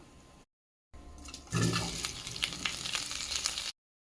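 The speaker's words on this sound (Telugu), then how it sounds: "ఇప్పుడు క్యాప్సికం వేసుకుందాం" Chopped capsicum drops into hot tempering oil in a pan for a capsicum fry and sets off a sudden burst of sizzling that eases into a steady, fairly quiet frying crackle.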